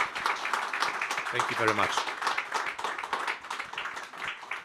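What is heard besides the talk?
audience applause for panelists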